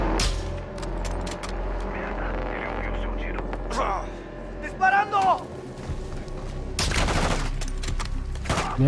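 Gunfire while shooting armored enemies in a video game, with scattered bursts and a sharp volley near the end over a steady low rumble, and people talking throughout.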